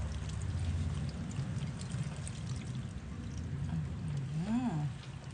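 Freshly squeezed soy milk pours steadily in a continuous liquid stream, a close, even splashing trickle that runs the whole time with a brief voice near the end.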